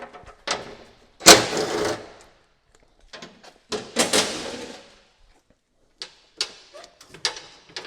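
Cover plate being removed from a Ram DEF pump under a truck frame: a series of close metallic clunks, scrapes and rattles in separate bursts with quiet gaps between, and no talking.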